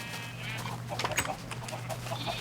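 Chickens clucking around a backyard chicken pond, soft intermittent clucks and chirps close by over a steady low hum, with no talking.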